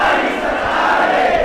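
Large crowd raising a loud, sustained collective shout or chant at a rally for a doctor, steady and dense throughout with no gaps.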